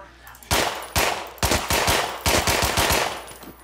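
Rapid bursts of gunfire from the zombie shooter game Contagion, several loud volleys of automatic shots in quick succession with brief gaps between them.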